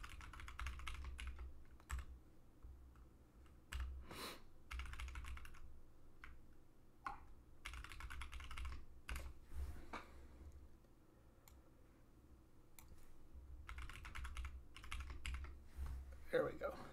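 A computer keyboard being typed on to enter a password during a Fedora 42 Workstation setup: quiet, close bursts of rapid keystrokes separated by short pauses.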